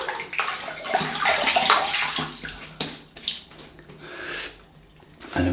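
Water running from a tap onto a shaving brush before lathering hard milled soap, a splashing, gurgling stream that comes and goes in short bursts at moderate volume, no voices.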